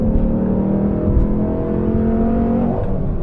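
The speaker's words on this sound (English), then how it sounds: "it almost sounds like a supercharger" A Dodge Challenger engine fitted with an aftermarket cam revs up close, a strong low droning growl with a steady whining, supercharger-like tone layered over it, holding loud for a few seconds before easing slightly.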